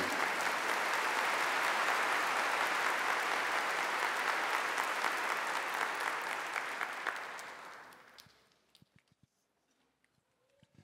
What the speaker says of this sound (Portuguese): Podemos aplaudir o Santo Evangelho com alegria